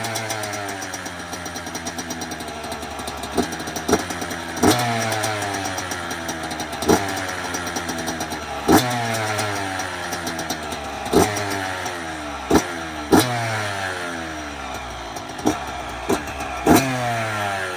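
A mostly stock dirt bike running 40:1 premix fuel, cold-started and warming up. The engine idles loudly up close and is blipped into repeated sharp revs that rise and fall every second or two. No talking.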